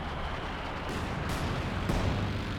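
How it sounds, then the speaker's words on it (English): Pack Howitzer artillery barrage in Company of Heroes 2, a dense, continuous rumble of shell impacts and blasts with a sharper burst near the end, loud and steady throughout. "And Pack Howitzer barrage is hitting the"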